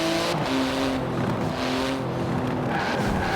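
A 700-horsepower 3.8-litre twin-turbo flat-six carbon-fibre sports car in Forza Horizon 4 drones steadily at high revs, its engine tone shifting as it drives, with a hint of tyre squeal.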